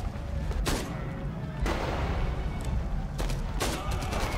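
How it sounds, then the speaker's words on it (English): Sniper rifle shots in the shooter game Enemy Front during a barricade defense, several loud sharp cracks spaced over a few seconds above a steady rumbling battle ambience. "I love this sniper rifle."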